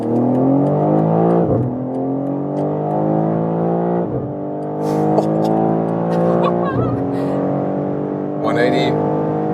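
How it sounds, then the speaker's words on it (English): 2024 BMW M3 Touring accelerating hard from 50 km/h on the Autobahn, engine note climbing steadily through several gears with brief dips at each upshift, loud and close from inside the cabin. "And now we're starting from 50 kilometers an hour. Let's see what we can score for the acceleration."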